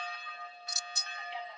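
Church bells ringing in Italy, their sustained tonal hum lingering steadily with a few brighter strikes, fairly loud and close throughout the short stretch.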